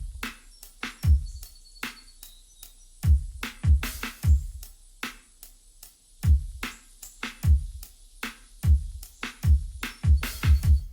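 A laid-back lo-fi hip-hop drum groove with punchy low kicks, snappy snare hits and ticking cymbals, repeating in a steady mid-tempo pattern with no voices.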